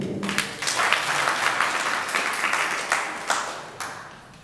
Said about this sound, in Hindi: ऐसी ताली बजाई जाती है।